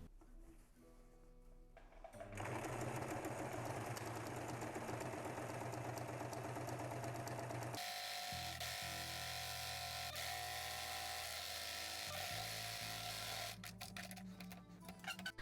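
A sewing machine hems the top and bottom of shirred maternity trousers, running in steady loud bursts with a brief pause midway and a quieter start.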